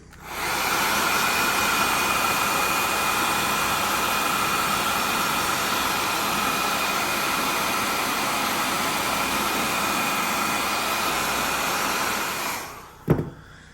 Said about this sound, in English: All right, we'll take the hair dryer and we'll just dry the wood.